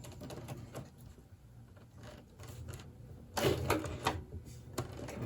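Elephant skin leather gun holster being hand-sewn, a run of sharp, irregular clicks and taps from needle and thread work, faint and close, with a louder cluster of strikes near the end.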